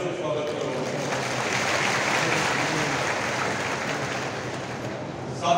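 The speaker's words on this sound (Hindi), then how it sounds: "आप जोरदार तालियों से स्वागत करो." A rally crowd gives loud, sustained applause, a thick wash of many hands clapping at once that holds steady throughout without talk.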